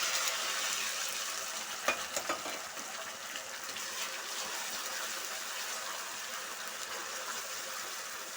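Onion paste made from two large onions ground smooth fries slowly in a pan for tomato sherwa, giving a steady, broad sizzling hiss. A few light stirring clicks come early on.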